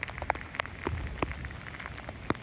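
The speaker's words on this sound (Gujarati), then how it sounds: "વરસાદ ધોમધોકાર ચાલુ છે." Heavy rain pours steadily at Uparkot fort in Junagadh, a dense outdoor hiss with scattered sharper drop taps and splashes, loud and close, no talking.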